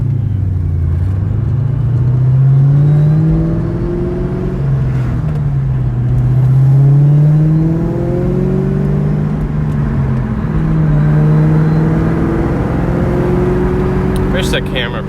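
2003–2004 Ford Mustang Terminator Cobra with a Bassani catback exhaust, loud low engine drone rising and falling in several revs and gear changes, with someone talking over it.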